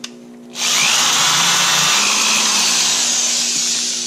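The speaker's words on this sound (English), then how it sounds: "I'm going to drill that hole" After a brief quiet moment, a power drill whirs on loudly and runs steadily at high speed for several seconds, close by, drilling a hole during a 4L80E transmission rebuild.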